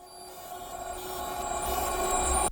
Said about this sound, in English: It's actually a sampled sound from the Impossible content bank from Audiction